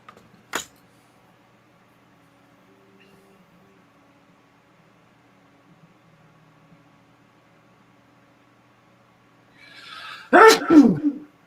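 After a long quiet stretch with a sharp click near the start, someone sneezes once, loudly and up close, with a quick intake of breath leading into it.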